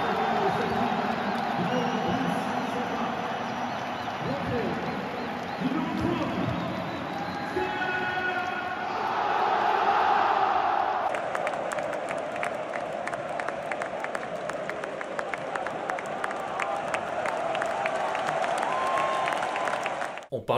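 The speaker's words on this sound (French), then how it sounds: "Mandanda est revenu en légende sous l'ovation du Vélodrome" Stadium crowd at the Vélodrome in Marseille giving Mandanda an ovation, heard as a steady, far-off roar of applause and cheering that swells and holds throughout, with a voice speaking over it in the first half.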